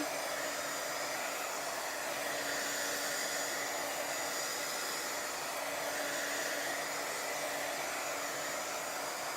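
A handheld heat tool blows steadily to dry paint on a craft cover, a loud, even whooshing roar with a faint motor whine that holds unchanged throughout, with no one talking.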